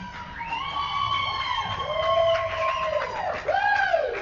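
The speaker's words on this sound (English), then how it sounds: "I believe the Montana crowd is in the building." The Montana crowd at an indoor sports event cheers in a steady roar, with whoops and rising, swooping shrill calls riding above the continuous crowd noise.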